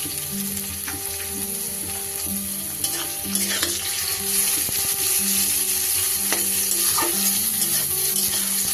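Capsicum pieces hit a hot pan and fry with a loud, steady sizzle, joined by intermittent scraping and clattering of a spatula stirring them, sustained throughout with no talking.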